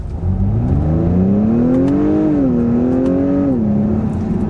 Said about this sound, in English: And now from a stop, we'll try some upshifts.